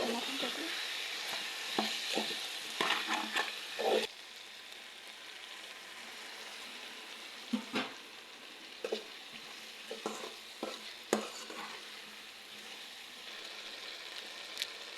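Cabbage frying in a pan with garlic, turmeric and spice mix, a steady close sizzle broken by repeated scraping stirs of a utensil against the pan, with no talk.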